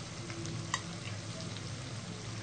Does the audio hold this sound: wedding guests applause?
no